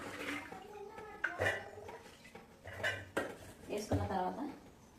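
A pot of washed white chickpeas for curry is set on a kitchen stove, with several sharp metallic clanks and clatters of cookware in bursts, mixed with someone talking nearby.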